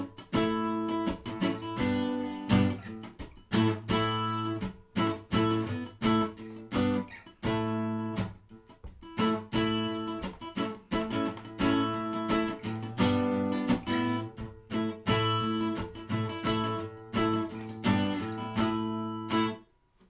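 Acoustic guitar strumming the rhythm for the B part of the Scottish folk tune Campbell's Farewell to Redcastle, steady chordal strokes in a continuous, lively pattern, played alone and close.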